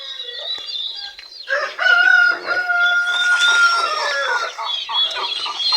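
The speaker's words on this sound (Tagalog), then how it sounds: "Siyempre, ito rin ating mga manok." Chickens on a Filipino farm that also keeps pigs: close, overlapping clucks and a rooster crowing, a busy and loud mix of several birds with no speech over it.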